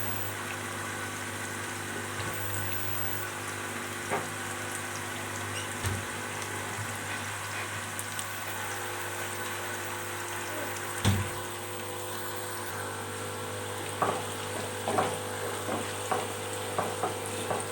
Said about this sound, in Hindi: प्याज को हम अच्छी तरह से सौते कर लेंगे यानी गोल्डन गोल्डन जो है ब्राउन कर लेंगे